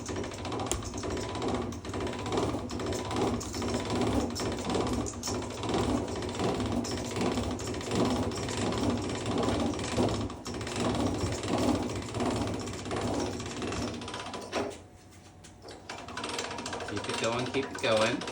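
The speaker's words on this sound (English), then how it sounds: "I like to take the skinnier end, go into that number one setting," Dough is cranked through a hand-cranked pasta machine at its widest setting, giving a continuous mechanical whirring and ratcheting with gear-like clicking, moderately loud and steady, with a brief dip near the end.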